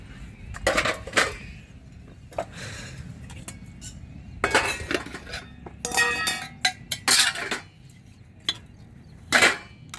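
Pots, plates and dishes gathered up for washing clatter and clank in irregular bursts of sharp metallic knocks and clinks, close by, with some voices in the background.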